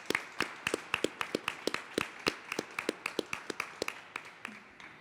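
A small audience at a poetry book presentation claps for a poet, with distinct, fairly close individual hand claps in a steady, sparse rhythm that slowly thins toward the end.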